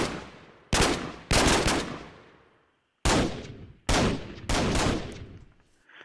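P90 submachine gun fire in Minecraft with Flan's mod, heard as several separate loud bursts of sharp rapid shots, each cutting off abruptly and leaving a short ringing tail before the next burst.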